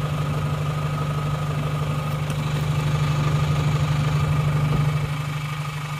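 A Panther engine running without a thermostat idles after a 4 km drive, a loud steady low rumble with an even throb that continues without a break throughout.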